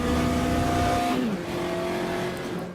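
Simulated Puma GTE engine in the Automobilista racing game, using Beetle audio, drones steadily under load and then drops pitch as it shifts or lifts, a short continuous engine note with no talk.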